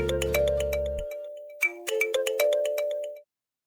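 A ringback melody plays over a phone speaker during an outgoing call, a looping sequence of bright synthetic tones. A low hum runs under the first second, and the tones stop abruptly near the end.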